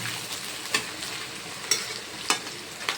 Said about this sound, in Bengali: পেঁয়াজটা এখন দিলাম, অল্প পেঁয়াজটা হালকা ভাজি হইব।